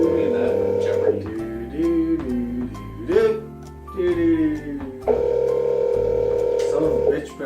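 A telephone rings out over the line while calling in to a show, a steady electronic ringback tone in long bursts at the start and end, with a voice talking in the gap between them.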